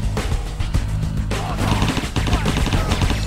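Rapid automatic gunfire from MP5 submachine guns and an M1014 shotgun in the video game Soldier of Fortune Payback, dense overlapping bursts of shots filling the whole stretch, loud and continuous.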